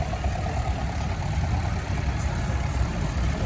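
An International Farmall tractor with a V4 diesel engine idles at a steam fair rally, giving a steady low rumbling chug, close and continuous, with no one speaking.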